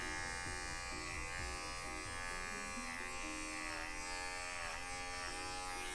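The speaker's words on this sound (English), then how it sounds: "I'm going to just slightly tip my clipper to the side and I'm just kind of running it off the side" Electric Wahl dog clipper trimming an American Cocker Spaniel's coat in a lamb trim, the steady motor buzz running continuously and close, with slight shifts in pitch as the blade is tipped and run along the side.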